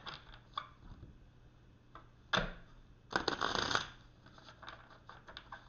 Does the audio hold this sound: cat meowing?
no